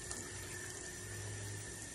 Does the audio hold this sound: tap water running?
yes